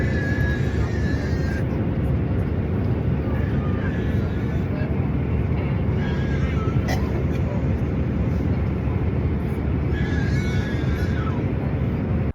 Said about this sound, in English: Here's a little clip of what it sounded like on the plane.